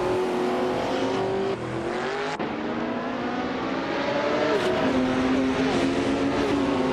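Vintage race cars, led by a 1970 Porsche 917 LH, roaring around New Jersey Motorsports Park, engine notes rising and shifting as cars pass, with sharp gear changes and a steady loud drone.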